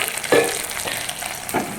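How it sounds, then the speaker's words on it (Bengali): Tempering of spices dropped into hot oil over boiled mung dal, a short burst of close sizzling that fades into a steady fry, with a second flare near the end. "আর এই যে ফোড়ন দেবো"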